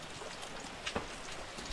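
Light rain falls on a campsite terrace as a soft, steady patter of drops with a couple of slightly louder hits near the middle, quiet and close, with no voices.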